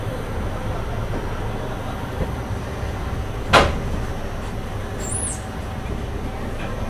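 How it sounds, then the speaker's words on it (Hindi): A door on the Delhi–Dehradun Mussoorie Express closes with one sharp thud midway, standing out over the constant rumble and rattle of the moving train. "चलो भाई दरवाज़े बंद कर देते हैं क्योंकि बिल्कुल भी सेफ नहीं है।"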